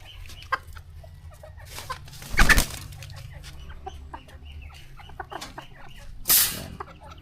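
Chickens on a farm, lavender and black mottled birds, cluck softly at close range, with scattered rustling and two brief bursts of flapping or handling noise.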